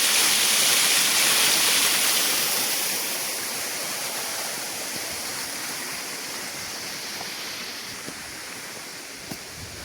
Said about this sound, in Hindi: पहाड़ की चोटी से पानी ये